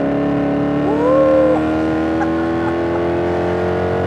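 Maserati GranTurismo engine revving and pulling hard, a loud sustained roar with pitch rising then settling over a few seconds, heard from inside the car.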